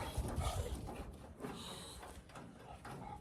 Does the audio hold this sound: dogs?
yes